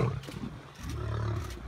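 A lion roars in a river while fighting a crocodile, a loud, low, rumbling roar that fades briefly and then swells again across the short moment, with no voices.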